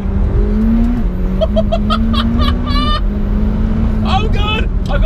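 McLaren 720S sports car accelerates hard, its engine note climbing in repeated surges through gear changes, loud and close from inside the cabin, with a person speaking excitedly over it.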